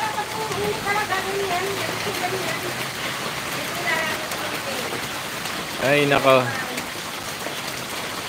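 Steady rain on the old zigzag mountain road, a constant hiss of falling drops under a brief spoken exclamation, with a louder patch of passing traffic or water near the end.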